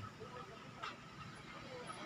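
A Hanabishi electric kettle of water hisses softly as it comes to the boil, a faint, steady rushing sound with a low rumble underneath.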